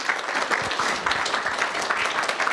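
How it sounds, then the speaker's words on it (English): Audience applause at a university landscape architecture speaker series lecture, following a live music performance; dense, steady clapping from a crowd fills the whole stretch at moderate loudness, with no talking over it. "Another round of applause."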